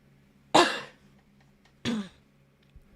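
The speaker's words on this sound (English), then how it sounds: "Seriously, my cough." Two separate harsh coughs, close to the microphone, about a second apart, in an otherwise quiet room.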